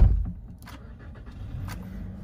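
A 2016 Toyota Hilux Workmate pickup engine cranks and catches with a brief thump, then settles into a low, steady idle nearby.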